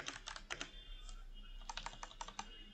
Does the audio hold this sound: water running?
no